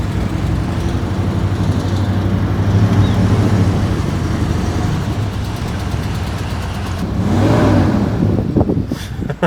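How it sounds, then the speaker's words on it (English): Chevy Blazer engine with a bad lifter tick or stuck valve, running steadily and loudly up close, a broad droning rumble that swells briefly near the end. "It's got a bad lifter tick / stuck valve."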